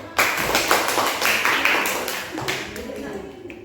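Classroom of primary school pupils clapping together for a presenting group, a dense burst of many small hands that swells early and then thins and fades toward the end.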